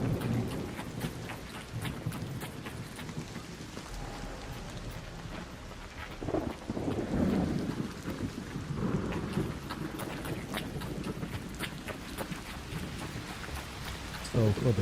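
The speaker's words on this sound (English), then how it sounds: "the electrical storm?" Thunder from an electrical storm in the video game ARC Raiders: deep rolling rumbles over steady rain hiss, swelling louder near the middle and continuing throughout.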